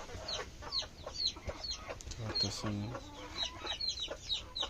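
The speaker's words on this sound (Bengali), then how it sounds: "মোটামুটিভাবে সব মুরগি সুস্থ আছে" Chickens on a poultry farm cluck repeatedly throughout, close and moderately loud, with sharp overlapping calls and brief low squawks.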